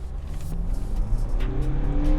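A 2021 Nissan Navara PRO4X 4x4 automatic pickup held in first gear in manual mode revs to 5,000 RPM, its engine droning steadily and climbing in pitch, loud and close with no talk.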